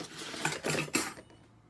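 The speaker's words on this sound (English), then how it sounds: "Let me get a fork and a spoon from this side." A metal fork and spoon are picked up in a home kitchen during guacamole prep, giving a few close, bright clinks and rattles of cutlery over about a second before it goes quiet.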